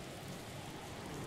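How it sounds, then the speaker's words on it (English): Rain falls steadily in the video game Dragon Quest Builders 2, a dense, even patter with no breaks, at moderate level and with no voices over it. "I think that's actually raining, not snowing"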